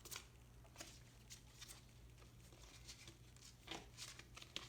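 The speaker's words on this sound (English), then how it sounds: "it's a little bit awkward to shuffle though because they're really big cards" Large oversized tarot cards with shiny edging being shuffled by hand, a faint rapid riffle and patter of card stock repeating in soft bursts, quiet and close with no talking.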